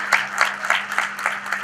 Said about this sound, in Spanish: Aplaudan si quieren aplaudir.